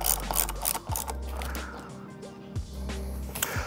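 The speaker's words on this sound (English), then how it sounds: "let's make sure this nut is nice and tight with a 13 millimeter" A ratchet tightens a nut on a battery post, with several quick bursts of close, crisp clicking separated by brief pauses.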